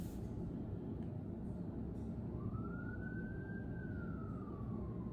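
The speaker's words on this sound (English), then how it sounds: "And I'm hearing sirens now." A single siren wails faintly in the distance, one rising and falling tone drifting over a steady broadband background hum, with no one talking.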